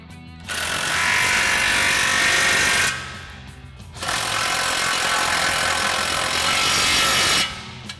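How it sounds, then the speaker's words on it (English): An impact wrench with a 19mm socket tightens lock nuts while fitting a front leveling kit on a 2021-2024 Ford F-150. It fires two loud, sustained hammering bursts of two to three seconds each, with a short pause between them. "Now we'll go ahead and tighten these down with our 19mm socket on our impact and an 18mm wrench."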